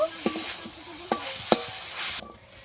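A coconut and jaggery mixture for pitha is stirred in a pan, with a few distinct spoon scrapes over a low sizzle that cuts off near the end.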